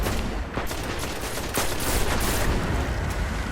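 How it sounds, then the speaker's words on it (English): Enemy gunfire rattles at the player in Destiny, a dense continuous volley of rapid shots with sharper bursts, loud and close, with no speech. "what the hell is shooting me?"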